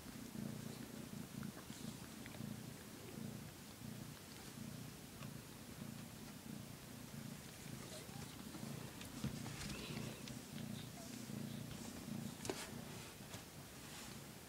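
Steady, close cat purring runs throughout as a continuous low rumbling drone with a regular pulsing rhythm, a mother cat having kittens, with faint rustling and small clicks on top.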